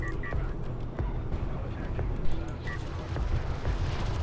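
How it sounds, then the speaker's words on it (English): An artillery barrage fires in the real-time strategy game Homeworld: Deserts of Kharak, a dense, continuous rumble of booming shots and impacts with a commentator's voice over it. "Con of Siege's barrage"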